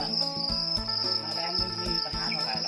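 Crickets raised on a farm in Wana Sawan village, Phu Sing district, Thailand, keep up a steady, shrill, close chirping trill. Soft rhythmic knocks sound underneath, and no one talks.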